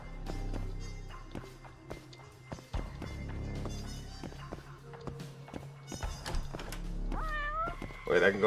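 In the video game Judgment, a cat lets out several clear meows near the end, following footsteps and soft thunks through the game's background sounds.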